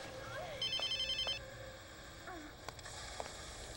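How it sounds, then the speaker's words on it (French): A telephone bell rings in a short burst of repeated trills inside a home, followed by a few faint clicks, with no talk over it. "Tu peux répondre, Susanna, s'il te plaît"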